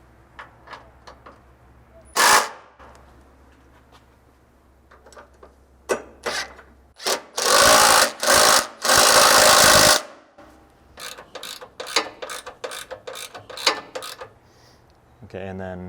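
Tightening skid plate bolts with a 5/16 Allen and a 13mm socket on a 5th Gen 4Runner or GX460 gives a string of sharp ratcheting clicks and metallic bursts, with a long loud stretch mid-clip and rapid clicks near the end.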